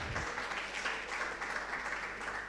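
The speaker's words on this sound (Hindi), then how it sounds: "आपकी तालियां बजती रहना चाहिए साहब।" Audience applause at a doctors' seminar, a soft steady patter of many hands clapping, somewhat distant and faint throughout.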